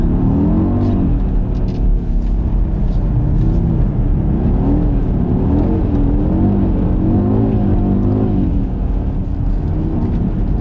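A 2020 Audi RS Q3 Sportback drives on a circuit, its engine droning loudly and steadily close up, with pitch swelling and dipping as it accelerates and eases off through the corners.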